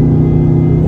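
A Whipple 3.0 supercharged Mustang rolling into acceleration, a loud steady droning engine note with strong low harmonics heard from inside the car for under a second.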